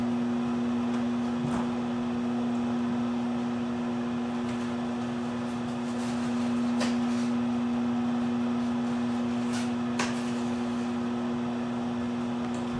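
Steady mechanical hum of a microwave oven running, with a constant low drone and faint fan noise, plus a few small clicks.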